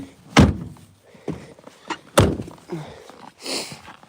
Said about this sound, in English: Why is the door not closing?